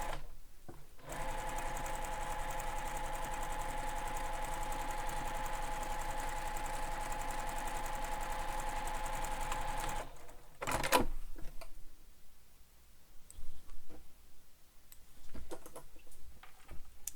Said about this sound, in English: you're going to top stitch across the top edge